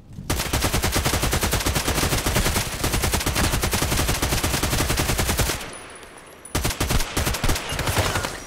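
AK-12 assault rifle in Contract Wars firing long, rapid full-auto bursts, a dense, loud rattle of shots that breaks off briefly before another burst resumes.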